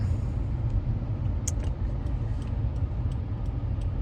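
A car drives along with a low, steady road rumble inside the cabin and a light, regular ticking over it. No one speaks.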